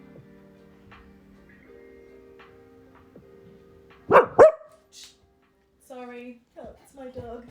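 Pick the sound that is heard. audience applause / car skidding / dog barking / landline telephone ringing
dog barking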